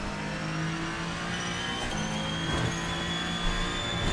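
Ferrenzo P49 race car, a Ferrari-style prototype in Assetto Corsa, droning at high revs with a steady, buzzy engine note and harmonic whine, held under load throughout without speech.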